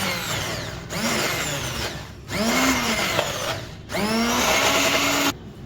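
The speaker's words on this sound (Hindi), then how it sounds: "एक ये जो हमारा हैंड विस्क होता है, जो जिसे हम ब्लेंड कर लेते हैं चीज़ों को, वो हम इसमें चलाएंगे" A hand blender whirring through a homemade white chocolate mixture in three separate bursts, each a loud steady motor drone with pitch shifts as it works, broken by short silent pauses.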